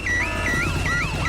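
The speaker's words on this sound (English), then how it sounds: "Daddy Pig has set off the noisy house alarm." A noisy house alarm in a Peppa Pig cartoon wails loudly and continuously, an electronic warbling siren sweeping up and down with no talk over it.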